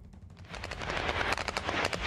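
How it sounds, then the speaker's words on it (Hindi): Rapid bursts of gunfire rattle in the Panjshir region during fighting, a dense run of sharp cracks that grows louder and keeps repeating without pause. "ये पंजशीर का इलाका है जहां पर गोलीबारी की आवाज आप सुन सकते होंगे।"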